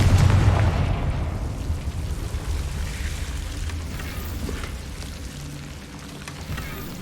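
A Confringo blasting spell detonates in the video game Hogwarts Legacy, a deep booming blast at the start that rumbles and slowly dies away into quieter game ambience.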